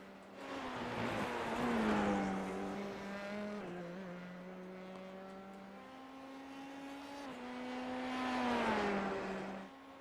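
Open-wheel race car in a racing video game at Road Atlanta, engine droning steadily with rising and falling pitch as it revs through gears, loud and continuous with two swelling peaks, no talk.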